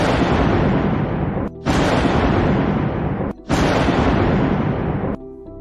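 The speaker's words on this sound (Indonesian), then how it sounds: "Suara ledakan menggetarkan langit." Explosions rumble loud and broadband, shaking the sky in a sustained roar broken by two brief gaps before the next blast surges back.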